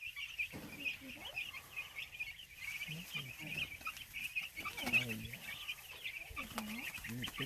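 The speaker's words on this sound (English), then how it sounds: "They're as happy as chickens can be." Farm chickens clucking and murmuring nearby in soft, irregular bursts, with a steady high insect-like buzz running underneath throughout.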